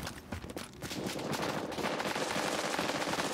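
Rapid machine-gun fire from a firefight in The Division rattles on almost without pause, loud and close, sustained through the whole stretch with no talking.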